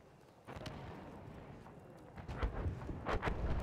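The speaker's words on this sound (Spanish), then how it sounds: "Escucho a alguien corriendo." A video game character runs, producing rhythmic footfall thuds that start soft, then grow nearer and louder toward the end.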